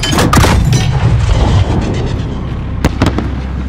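Illumination flare rounds launched in Call of Duty: Modern Warfare (2019), a loud booming launch with popping bursts over a rumbling battlefield bed, followed by a couple of sharper cracks near the end.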